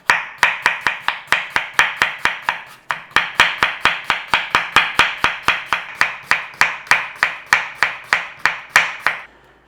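A knife slices potatoes on a board in quick, even strokes, dozens of sharp close taps in a steady rhythm with one brief pause, no talking.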